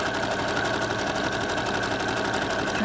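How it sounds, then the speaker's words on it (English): A sewing machine stitches stacked ribbons in a fast, steady, continuous whir that holds at an even level throughout, with no pauses and nothing else heard. "you just keep on sewing"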